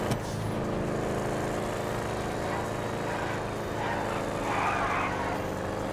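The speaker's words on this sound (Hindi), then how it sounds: "भाई साहब बैक फायर मार रही है पूरे" A modified car in GTA 5 drones with a steady, continuous engine hum, revving slightly through a race with no distinct backfire pops standing out.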